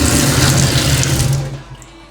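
Water runs steadily from a tap in a close, even rush, then tapers off as the flow is shut.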